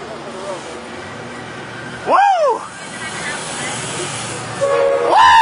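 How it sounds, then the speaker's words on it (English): An Amtrak passenger train passes at Del Mar, California, sounding two loud, close horn blasts over a steady rolling rumble, with people talking nearby. "Wow, what a train."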